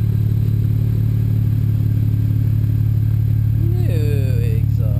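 BMW 335i engine idling through its old stock exhaust tips, a steady low drone throughout, with a brief whining sweep of an aircraft overhead near the end.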